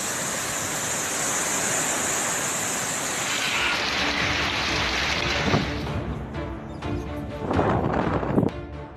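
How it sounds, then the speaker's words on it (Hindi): Dense, steady roar of heavy rainfall from Cyclone Jawad in eastern India, loud and continuous, with some rougher splashing bursts near the end. "आंध्र प्रदेश, ओडिशा और पश्चिम बंगाल में कई जगह भारी बारिश शुरू हो गई है"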